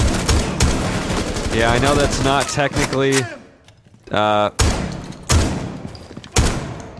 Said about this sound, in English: Wasn't gonna survive that gunshot blast to the face.